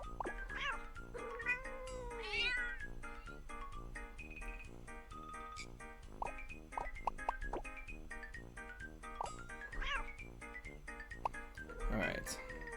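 Repeated cartoon cat meows from the mobile puzzle game Block Cat Jam, a few near-identical calls recurring over steady, looping game music and chimes.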